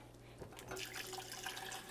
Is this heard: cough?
no